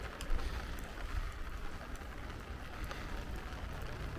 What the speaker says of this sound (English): It's been raining since midnight